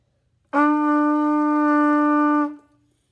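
A single sustained trumpet note, steady and bright, held for about two seconds before cutting off cleanly.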